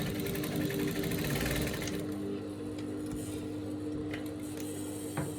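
A sewing machine top stitching a pant pocket to the main body, running as a steady, continuous whir at moderate, close volume with faint ticks.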